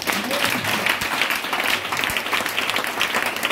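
A church congregation applauding during a French-language worship service, steady dense clapping from a crowd, fairly close and even throughout, with faint voices beneath.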